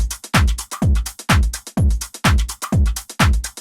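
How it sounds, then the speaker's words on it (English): A future house drum loop with a punchy kick and a compressed, slappy clap, hitting in a steady driving pattern for a few bars, loud and alone without any voice. "Altogether, the drums sound like this."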